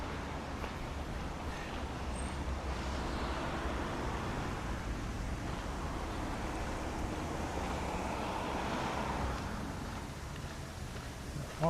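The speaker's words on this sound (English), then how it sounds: "It's very windy today. I hope my mic is doing a good job in blocking out the wind noise." Wind gusting into a microphone during a walk through a Tokyo park, a steady, broad, low rumble and rushing noise lasting throughout with no clear pauses.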